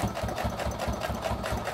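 A sewing machine stitches fabric for a travel brush holder, its needle chattering in a quick, even rhythm of repeated mechanical pulses, fairly quiet and close.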